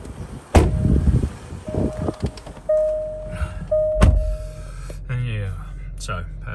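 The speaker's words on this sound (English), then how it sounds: "I'll shut the doors just so you can see that triangle go out" Doors of a 2017 Range Rover Vogue Autobiography Overfinch V8 diesel are shut: two heavy thuds a few seconds apart, with chimes and small interior clicks and movement around them.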